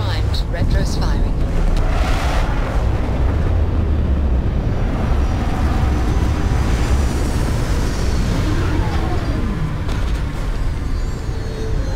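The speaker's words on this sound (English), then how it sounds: "Landing struts primed. Retros firing." Spaceship retro thrusters fire continuously during a landing in Starfield, a loud, steady low roar with rumbling broadband hiss that holds for the whole stretch, no pauses, with faint game sounds layered over it.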